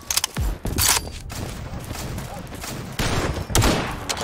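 Automatic weapon gunfire in Garry's Mod, heard as loud broadband bursts around the start and again near three and a half seconds, with a steady game background noise running between them.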